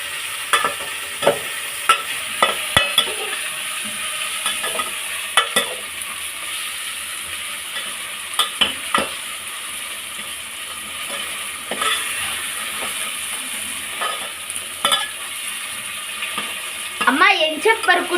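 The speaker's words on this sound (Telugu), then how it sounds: "ఇప్పుడు మనం టమోటా వేసుకుందాం టమాటాని బాగా మిక్స్ చేసుకోవాలా" Tomatoes being stirred and mashed in a frying pan for mushroom pulao, a steady sizzle with repeated scraping spoon strokes against the pan, louder clattering near the end, no speech.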